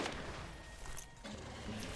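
Grenade explosions and gunfire in the video game Borderlands, a dense, noisy burst of blasts and shots filling the clip, with a short lull before the barrage resumes, heard faintly.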